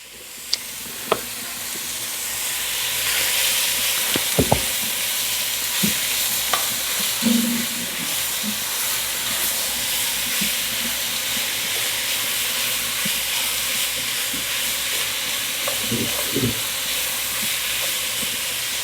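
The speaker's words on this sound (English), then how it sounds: "while we got our bacon frying" Two pounds of diced bacon frying in a Dutch oven, a broad, even sizzle that builds after a few clanks and holds steady, with scattered utensil taps and thuds and nobody speaking.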